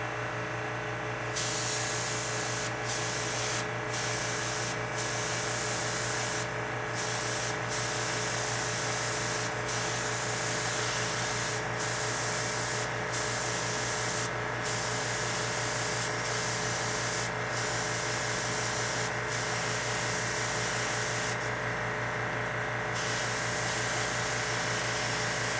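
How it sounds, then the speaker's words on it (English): An airbrush sprays paint while fed by an air compressor, giving a continuous loud hiss with a steady compressor drone beneath, broken by short regular trigger bursts and pauses across the stretch. "Airbrushes work so much better when they have air."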